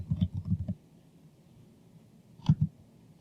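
Mouse clicks on a computer during web group-settings management: a quick cluster of soft, close clicks, then a pause and two more near the end.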